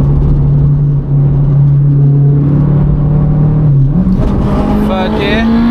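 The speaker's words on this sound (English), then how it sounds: "She's pulling on the motorway" A 500bhp big-turbo Honda Civic Type R pulls hard on a motorway, its engine droning loudly from inside the cabin, the pitch steady then rising after a gear change, with a person talking over it.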